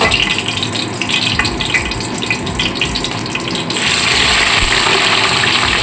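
Chopped onions tipped into hot oil with whole garam masala and cumin for chicken malai curry set off a steady, loud, broad sizzle that jumps to a fuller, louder roar partway through.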